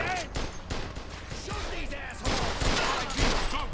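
Rapid bursts of gunfire in the Mafia 2 video game, dense crackling volleys and shots running on without pause, with voices talking over the shooting.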